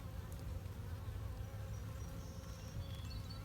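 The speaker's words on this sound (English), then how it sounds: "it looks like these bees are getting into that honey" A dense, steady buzzing hum of many honey bees in a hive, continuous and close, with no voices.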